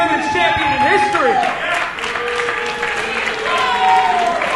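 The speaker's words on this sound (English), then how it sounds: "Some still mixed reactions from the Barrie Wrestling crowd." A wrestling crowd at a Barrie Wrestling show reacts with scattered applause and mixed murmuring, a steady roomful of noise with some tonal sounds over it.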